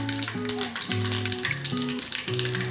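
Mustard seeds sizzle and pop in about three tablespoons of hot oil in a pan, a steady bright crackle under a continuous background melody.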